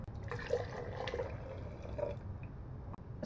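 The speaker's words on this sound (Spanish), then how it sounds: "vertemos la fase acuosa sobre la oleosa" Water phase being poured onto the oil phase for a homemade natural sunscreen, the two phases still sitting in hot water; a soft, steady liquid trickle with faint drips, fairly quiet and alone.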